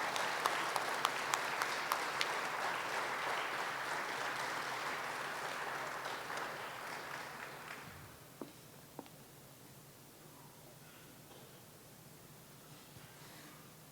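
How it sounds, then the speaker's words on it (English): Steady applause from an audience at a tribal historic preservation awards ceremony, dense and sustained for about eight seconds before fading to a few scattered claps and quiet room noise. "How about another round of applause?"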